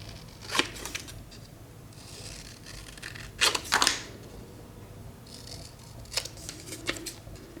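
Scissors cut out paper labels for a handmade advent calendar, with a few quiet, separate snipping and rustling bursts spread across an otherwise hushed room.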